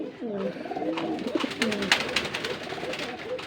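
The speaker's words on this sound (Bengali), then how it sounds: "এই দেখেন কতটা ছটপটা কবুতর ঠিক আছে" German Beauty pigeons coo in a loft, several rounded throaty calls repeating close by over a soft background of wing and cage noise.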